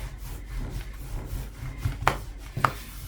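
Phyllo dough rolled thin on a wooden board with a rolling pin, giving soft rubbing and low rolling rumble alone, with two sharper knocks of the pin near the end.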